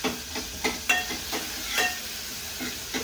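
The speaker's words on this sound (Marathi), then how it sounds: "क्रिस्पी गोल्डन होईपर्यंत फ्राय करायचे" Onions frying in a pan for a village-style dal bhatti, a steady broadband sizzle with repeated clinks and scrapes of stirring, close and fairly loud, with no talking.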